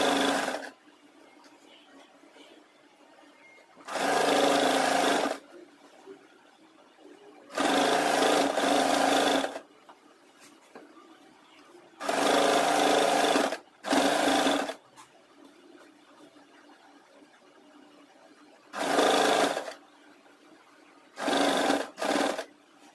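A sewing machine stitches the bodice of a girls' school uniform skirt in several loud, close bursts of rapid whirring, each a second or two long, separated by quiet pauses.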